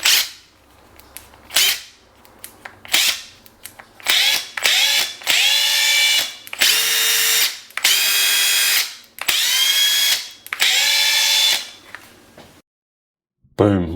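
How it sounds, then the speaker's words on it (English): Loud, close bursts of a power drill driving screws into a cupboard, about a dozen short spins and several longer whirs, ending in silence. "we can control our special expensive drills"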